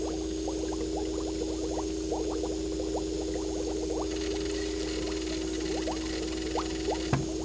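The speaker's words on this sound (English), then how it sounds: "I'm going to fill this empty jug with this water." Water poured from one jug into an empty jug, a steady trickling splash that runs on through the whole stretch, close and continuous over a constant low electrical hum, with a small knock near the end.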